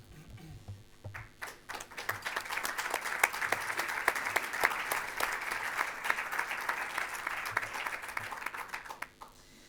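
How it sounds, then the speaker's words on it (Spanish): Applause at a book presentation event, many hands clapping in a sharp, crackling wash that swells after a quiet start, holds steady for several seconds, then fades near the end. "Me sumo al aplauso"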